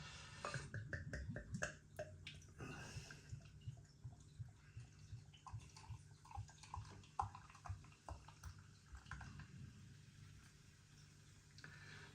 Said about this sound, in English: So beer pouring out, one finger.